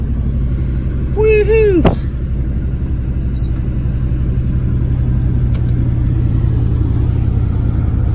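A 1990 Buick LeSabre Estate with a carburetor and choke idles after a cold start, its throttle sticking. A low, steady engine rumble runs throughout, and a voice briefly whoops over it at the start.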